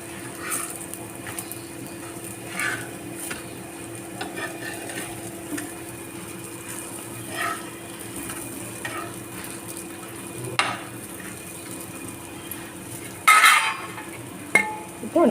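Raw plantain slices frying in oil and being turned over, a low sizzle under repeated light scrapes and taps of a utensil against the pan, with a few louder clatters near the end.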